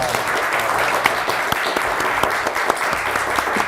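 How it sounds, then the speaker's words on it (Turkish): Loud, sustained applause from a large television game show studio audience, steady and dense throughout with no gaps. "Hadi bir kocaman alkış daha."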